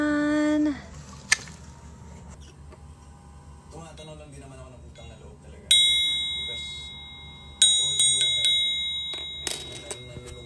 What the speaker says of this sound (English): Even have this triangle.